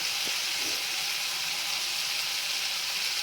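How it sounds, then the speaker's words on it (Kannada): Chopped onion sizzling in hot oil, a steady broadband hiss of frying that holds evenly throughout with no talking. "ಇವಾಗ ನಾನು ಇದಕ್ಕೆ ಈರುಳ್ಳಿ ಕಟ್ ಮಾಡಿದ್ದೀನಲ್ಲ ಸಣ್ಣ ಸಣ್ಣದಾಗಿ ಒಂದು ಅರ್ಧ ಈರುಳ್ಳಿ ಹಾಕೊಳ್ತಾ ಇದ್ದೀನಿ"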